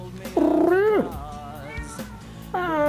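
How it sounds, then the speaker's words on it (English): A pet cat meows loudly and close by, a drawn-out rising and falling call followed by a softer wavering meow and a third meow starting at the end, no talking. "Ah, kitty."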